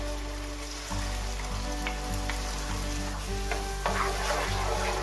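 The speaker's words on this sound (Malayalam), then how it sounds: "ഇനി ഇതിനകത്തുനിന്ന് എണ്ണ അതിന്റെ തെളിഞ്ഞു വരുന്നത് വരെ നന്നായിട്ട് വഴറ്റിയെടുക്കണം" Ground onion and chili paste with coconut pieces sautéing in oil for Kerala chicken perattu, a steady close sizzle with stirring scrapes and soft clatter of the spoon against the pan, no talking.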